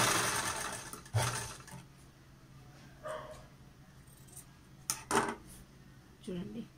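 A sewing machine stitches cloth for puff sleeves in short, faint bursts, while a dog barks a few times in the background.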